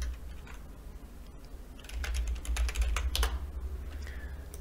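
Computer keyboard typing while naming a parameter in Unreal Engine 5, a quick run of close, crisp key clicks that gets louder over low background hum, with no talking.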